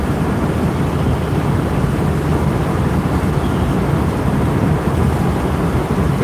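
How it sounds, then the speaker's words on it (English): A thunderstorm in Sussex County with heavy lightning, heard as a dense, steady roar of rain and rumbling thunder that stays loud and unbroken throughout, with no voices. "This storm is bringing a lot of lightning."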